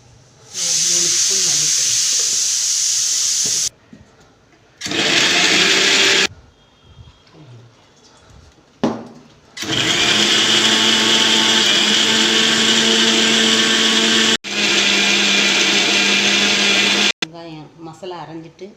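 A mixer grinder grinds masala for a home lunch in several loud bursts of whirring, separated by pauses where someone speaks.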